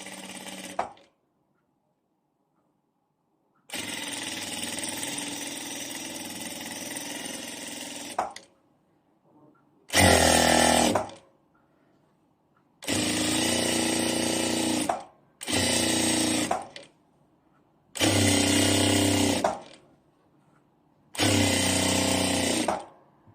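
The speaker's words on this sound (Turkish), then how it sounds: "bir santimden Üste dikiş atıyoruz arkadaşlar." Sewing machine stitching a child's skirt, sewing one centimetre above the waistband, running in loud steady bursts of several seconds each, separated by short pauses, with no talk.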